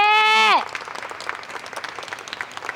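Cooking contestants applauding themselves after a blind flavor battle, a brief musical sting at the start giving way to light, scattered clapping that continues at moderate loudness.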